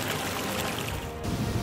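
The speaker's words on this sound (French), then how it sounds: "le bruit de l'eau qui coule," Steady flowing water, a continuous broadband pouring and trickling wash that stays even in level throughout, with no voices.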